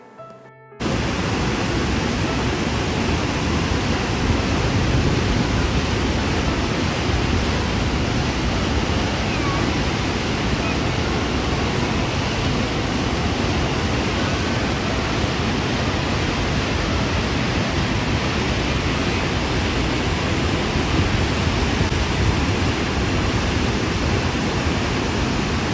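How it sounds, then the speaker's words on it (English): Waterfall at Natural Bridge on the Kicking Horse River, a loud, unbroken roar of rushing water that swells in within the first second and holds steady throughout, with no voices. "what makes it special is this waterfall."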